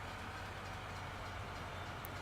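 A train passing in the farming game Farming Simulator 19 makes a steady, faint low rumble with a broad wash of noise, continuous and even throughout, with no talk over it.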